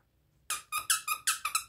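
A squeaky plush pig dog toy squeaks about six times in quick, uneven succession after a moment of silence, each squeeze sharp, close and high-pitched, with no talking.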